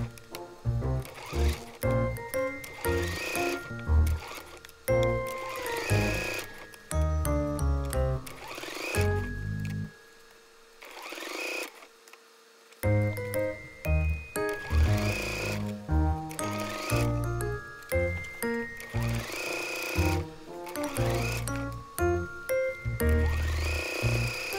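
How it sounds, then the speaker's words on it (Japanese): A sewing machine stitches a zipper onto a shoulder bag in quick mechanical runs of needle clatter, stopping briefly for a quiet pause before resuming in several more close, rhythmic bursts. "ではファスナーを縫い付けていきます"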